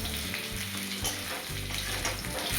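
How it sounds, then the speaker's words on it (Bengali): Potatoes frying in oil with panch phoron and dried chillies, a loud, dense sizzle with stirring scrapes, close up and unbroken. "এই আলুগুলো ভালো করে লাল লাল করে ভেজে নেবে।"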